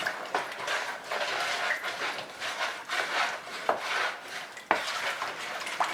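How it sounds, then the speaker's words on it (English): Peach cobbler mixture stirred in a bowl: continuous scraping and rubbing strokes in a loose rhythm, with a few sharper knocks of the spoon against the bowl, close and clear, and no voices. "Stir this all in."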